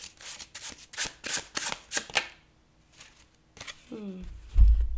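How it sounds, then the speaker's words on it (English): Tarot cards shuffled by hand before drawing a card, a run of quick crisp riffling bursts close up, then a pause and a brief voice with a low thump at the end. "I'm just going to pull one more card to see the overall energy."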